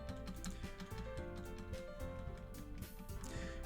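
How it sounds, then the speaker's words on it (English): Rapid, continuous typing on a computer keyboard, with dense quick clicks over steady piano music throughout. "Hear the rapid fire of my keyboard."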